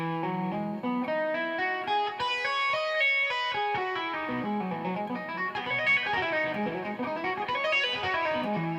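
Smooth, flowing electric guitar notes climb and fall in a continuous arpeggio played with hammer-ons and pull-offs, slurred together with a slightly effected tone and no voice.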